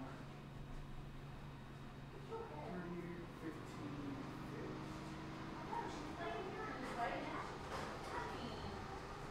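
A dog gives soft whimpers and small yips beneath a steady broadband background rumble, faint and intermittent, with a person talking nearby.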